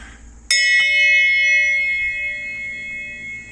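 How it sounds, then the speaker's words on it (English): A dinner bell at a house rings once with a sharp metallic strike, then a long shimmering ring that slowly fades, heard close and alone without talk. "We got another dinner bell."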